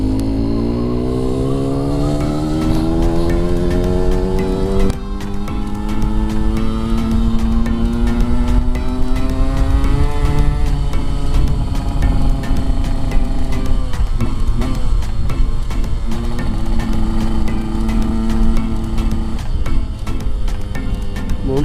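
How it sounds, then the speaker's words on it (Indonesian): Yamaha RX King motorcycle engine running noisily, a loud continuous droning hum with pitch that rises and falls as the throttle changes, held throughout the clip. "Mungkin kedengaran nggak sih suara mesinnya motor tuh yang ribut."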